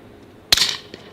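A single sharp gunshot from an HK Mk 23 .45 ACP pistol at a shooting range, one loud crack with a short ringing tail and faint echoes afterward, no talking.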